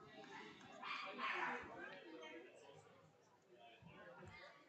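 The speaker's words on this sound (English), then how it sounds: "there's a dog down here that's either having a really good time barking or not having a good time at all" Dogs bark near a ballpark during an Evansville Otters vs New York Boulders baseball game, faint and distant yips and barks mixed with quiet crowd ambience and low talk.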